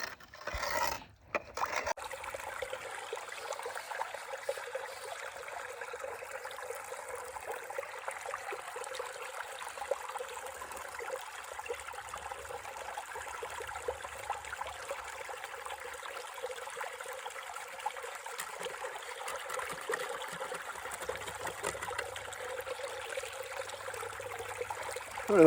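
Narrow hillside creek water trickles and flows steadily in the background while gravel is run for gold, a soft continuous wash with faint scraping and no talk.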